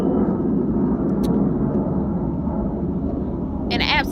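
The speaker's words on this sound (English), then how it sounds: "Sorry, airplanes." Airplanes passing overhead make a loud continuous low roar that fills the whole stretch, steady and broad, with a short higher whine near the end.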